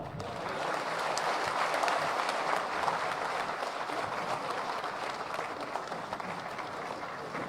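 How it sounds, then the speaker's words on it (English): Sustained applause from a crowd at a party workers' convention in a Shillong library hall, a thick continuous roar of clapping that stays loud and even throughout. "A big round of applause for our Honorable Didi."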